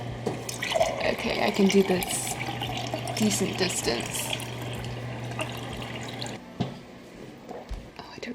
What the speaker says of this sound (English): I don't want to overfill my water.